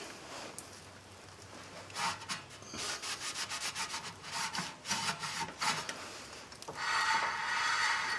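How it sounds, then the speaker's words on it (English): Steady rubbing and wiping on a 2012 Nissan Altima rear brake rotor face, repeated close strokes that build to a continuous scrubbing at the end. "Make sure you clean the rotor face, anything that got on the rotor, clean that up."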